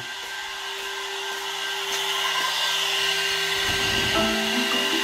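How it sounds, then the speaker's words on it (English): A loud, steady high-pitched whine of an air-cooled CNC spindle motor running continuously at full speed, with a constant airy hiss and slight rise partway through. "from here you can also have idea how loud is the air cool spindle"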